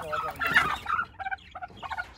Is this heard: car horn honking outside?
no